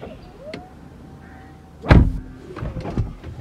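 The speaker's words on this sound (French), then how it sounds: "On ferme la porte." A Rolls-Royce Wraith's door closes with a soft motorized whir followed by a heavy, muffled thud, then a few smaller clicks and settling knocks inside the car.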